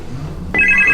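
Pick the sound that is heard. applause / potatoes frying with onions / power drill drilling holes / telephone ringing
telephone ringing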